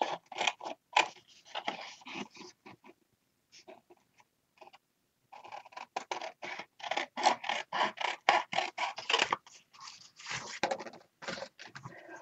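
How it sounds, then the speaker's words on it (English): Paper being rough-cut with scissors while making a Prima Relics and Artifacts frame and heart craft: close, rapid crisp snipping and scraping strokes in dense runs, with a brief quiet gap midway before the cutting resumes faster. "just gonna rough cut this with my scissors."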